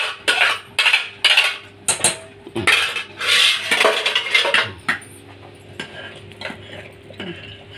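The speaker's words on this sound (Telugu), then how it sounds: "ఉండ కట్టకుండా కలుపుకోవాలి." A mixture stirred in a pot to keep it free of lumps as it thickens, with a spoon clanking and scraping against the metal in quick, loud strokes that grow softer and lighter toward the end; no talking.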